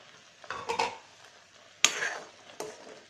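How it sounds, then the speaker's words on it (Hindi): Tamarind chutney with raisins and dry ginger powder being stirred in a pan: a few separate scraping swirls and soft clicks, close and fairly quiet, with pauses between strokes and no talking. "इसको अच्छी तरह से मिक्स कर लेंगे"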